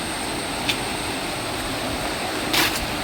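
A flowing stream at a private nature-stay spot, heard as a steady broadband rush of water, even and continuous, with a couple of faint brief clicks and no voices.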